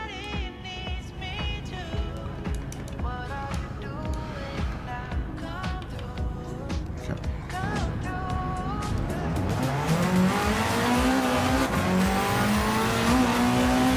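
A road car in Gran Turismo 7 revs and whines through gear changes, rising in pitch and growing louder with squealing tires toward the end.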